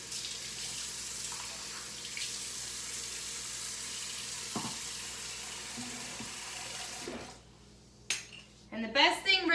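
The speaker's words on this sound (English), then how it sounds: "Okay, so I just drain them over here. Just drain the liquid." Liquid drains from cooked food being prepared for homemade chilli, a continuous wash of water and faint clinks of pots and utensils. The pouring stops after about seven seconds, and a voice follows.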